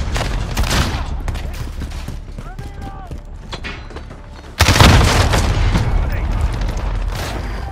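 A heavy grenade blast booms in Call of Duty Modern Warfare, a sudden loud thump midway that rumbles on amid scattered gunfire, with shouted voices heard earlier.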